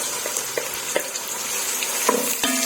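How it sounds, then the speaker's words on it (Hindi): Onions sizzle and crackle steadily in hot oil in a karahi while chicken karahi is being cooked, with a few clinks of stirring, close and fairly loud, with no one talking. "तो अब हम इसमें प्याज डालेंगे।"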